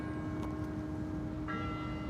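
A church bell rings steadily and fairly quietly in the distance, its sustained humming tone swelling with a fresh strike partway through, with no talking over it.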